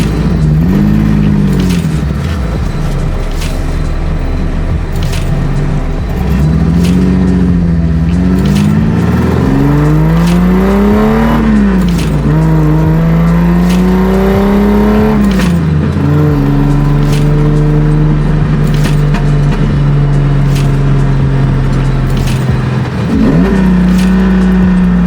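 A 1975 Datsun 280Z with individual throttle bodies drives and revs, its loud close induction and exhaust note rising and falling through repeated revs and gear changes for the whole stretch, with no voices.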